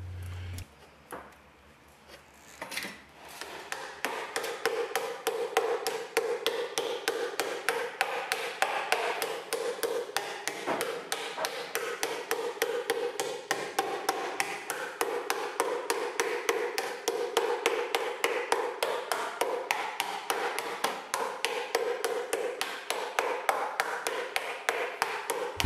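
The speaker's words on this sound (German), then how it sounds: "Je mehr das Blech geklopft wird, desto höher muss die Klopfschablone liegen" Sheet metal is hammered over a shaping template to form a teardrop hood scoop, with a fast, steady train of close metallic taps that runs almost unbroken after a short quiet start.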